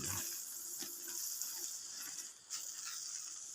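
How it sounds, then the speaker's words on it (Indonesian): Water runs steadily from a hose while a durian tree is watered, a constant hissing, splashing flow close by with a brief dip partway through and no talk. "selang bawah juga tuh masih berjalan airnya"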